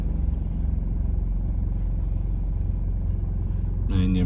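A car backing up slowly during a driving licence test, heard from inside as a low, steady engine rumble and idle hum, with a faint chime near the end.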